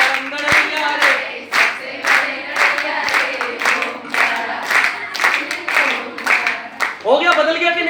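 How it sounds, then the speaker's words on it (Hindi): An audience at a lecture on Natyashastra theatre claps in unison, a steady rhythmic beat of sharp hand claps about twice per second, close and loud, with a voice calling out near the end. "अब एक बार सब ताली हो जाओ।"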